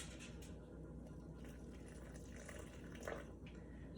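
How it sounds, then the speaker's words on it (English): Water runs and trickles steadily into a bowl of homemade playdough mix, a soft continuous pour with a slight splash near the end and no talking. "now we're going to add a little bit more water."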